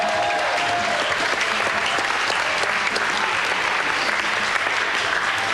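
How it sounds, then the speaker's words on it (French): A TV studio audience at a children's video game show applauds the winning team, a dense, steady wash of clapping that fills the whole stretch at an even, loud level without letting up. "On peut les applaudir."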